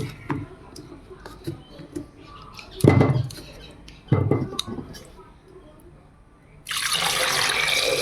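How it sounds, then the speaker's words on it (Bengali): Potatoes are washed in a home kitchen sink, with water splashing and clinking in short bursts before a steady stream of running tap water pours near and loud at the end. "আলুগুলো ভালো করে কেটে ধুয়ে নিয়েছি"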